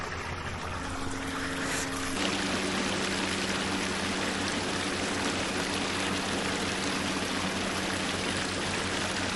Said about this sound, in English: You stop, you can hear the rustling of a creek